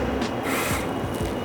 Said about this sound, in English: I'm just gonna drill a little pilot hole.